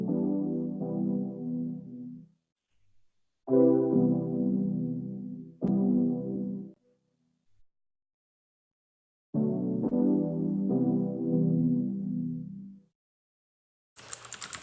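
Sustained synthesizer chords swell and fade in separate phrases, each held for a couple of seconds with pauses of silence between, ending with a brief noisy burst.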